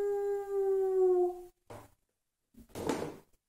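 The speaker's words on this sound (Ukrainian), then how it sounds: "вовк виє" A wolf howls in a long, close, rising and sliding tone lasting over a second, followed by brief softer rough sounds after a pause.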